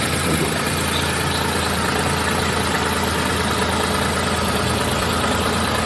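A single-owner 2012 Hyundai Eon car engine idling, a steady, even low hum with slight vibration, loud and close with no voices.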